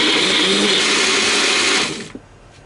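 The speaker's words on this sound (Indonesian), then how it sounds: "Dan kita blender sampai halus ya." An electric blender whirs loudly, grinding coriander and other spices with a little oil, then shuts off and winds down into near quiet.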